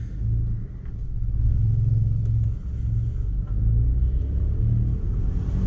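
A Volkswagen Polo car driving, heard as a steady low engine and road rumble from inside the cabin, continuous and fairly loud.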